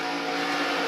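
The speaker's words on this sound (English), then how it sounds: "Listen to the throttle here." A NASCAR Cup Series race car on throttle gives a brief, loud, sustained engine roar during a crash sequence, with no voices.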